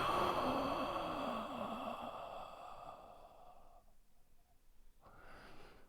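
A long exhaled breath released from a held yoga pose in a hot yoga class, a soft sighing whoosh fading over a few seconds, followed by a short quieter breath.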